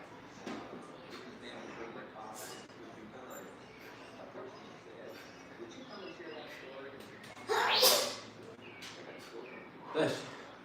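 A person sneezes during a home workout of weighted squats, a sharp sudden burst that stands out above steady room noise, followed a couple of seconds later by a second shorter burst.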